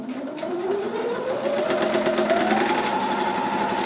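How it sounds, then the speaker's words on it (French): A sewing machine stitches a handbag seam in a continuous close whirring run, its motor pitch rising steadily as it speeds up, loud and unbroken with no talk. "on va aller coudre sur la ligne, là, et après, on enlève le surplus"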